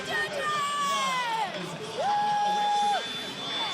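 Crowd noise in a basketball arena at a New Zealand NBL game, Wellington Saints against Auckland Tuatara, with cheering, shouts and whoops under loud sustained whistle-like tones and brief voices.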